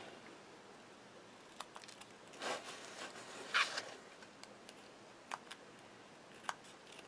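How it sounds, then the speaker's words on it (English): Scissors trim excess paper from a die-cut woven heart, with a few faint, sparse snips and light ticks in a quiet room. "And then we're going to trim the excess."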